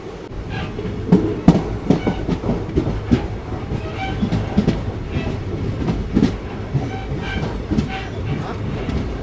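The Kakinada–Mysuru special train rolls slowly into a station, its wheels giving an irregular clickety-clack over the joints beneath a low steady rumble, close and moderately loud throughout, with faint talk in the background.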